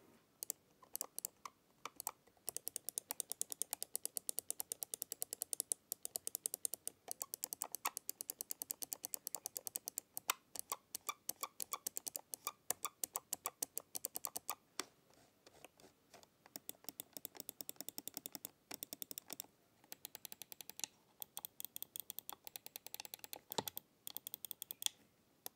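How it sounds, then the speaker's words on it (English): Redragon M908 Impact gaming mouse buttons, including the left click and the side buttons, clicking in steady rapid bursts of dense, crisp taps, close-miked with no talking. "here's just a quick sound test of that left click and then also the rest of the buttons on the mouse"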